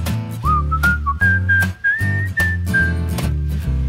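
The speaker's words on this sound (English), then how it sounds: "I love to whistle, 'cause it makes me merry, makes me feel so very." A person whistles a bright, sustained tune over a bouncy backing track with steady bass thumps, the clear whistle gliding and holding notes in the foreground.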